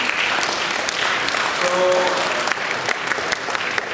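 Applause from a seminar audience for speakers and sponsors, dense steady clapping from a crowd with a brief spoken word from a man near the end of the clapping.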